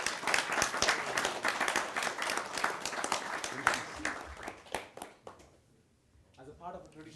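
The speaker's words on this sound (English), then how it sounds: "giving him a big round of applause" An audience at an evening student program applauds a visiting guest speaker, a dense burst of clapping that holds steady for several seconds, then quickly dies away to near silence with a few faint voices.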